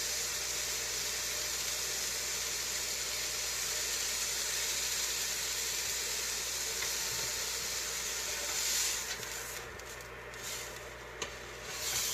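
Food sears in a pan as part of a burrito bowl, a steady close sizzle that holds throughout with a few brief scraping shifts near the end.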